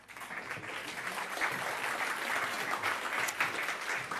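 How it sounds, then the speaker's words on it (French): An audience at an evening edtech event gives a warm round of applause, continuous dense clapping that stays steady and fairly loud from start to finish. "On vous applaudit bien fort."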